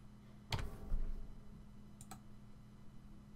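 A few quick clicks of typing on a computer keyboard, one short cluster followed after a pause by a couple more keystrokes, faint and close over a low steady hum.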